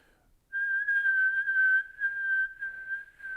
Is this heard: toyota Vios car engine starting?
no